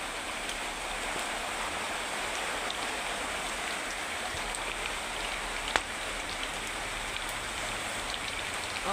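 Eggs frying in a pan give off a steady, dense sizzle and crackle, close and even throughout with a single sharp pop near the middle.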